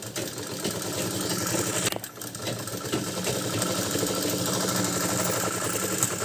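A sewing machine stitches a folded neck strip onto a kurta, its needle whirring in a fast, steady rhythm close by, breaking off briefly near the middle before running on.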